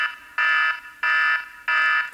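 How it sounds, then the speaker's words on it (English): Timer alarm going off with three loud, harsh buzzing beeps, each about a third of a second long, spaced evenly roughly two-thirds of a second apart, close and alone without talking. "Timer done."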